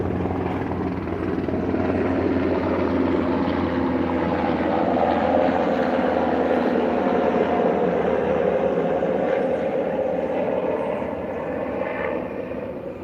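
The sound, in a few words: helicopter flying overhead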